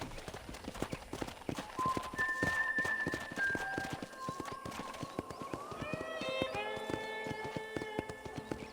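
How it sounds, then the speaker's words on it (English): Horse hooves clip-clopping at a steady walking pace in the video game Red Dead Redemption, rhythmic and close, with a melodic music score playing underneath. "I picked out a fine horse for you."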